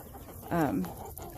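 A single short, squawking cluck from a hen, close and fairly clear over a quiet background.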